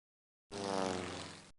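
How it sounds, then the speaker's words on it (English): A propeller airplane flying, a sudden steady droning engine hum with a buzzing tone that starts abruptly after silence, close and fairly loud, then fades slightly before cutting off, with no talking. "An airplane."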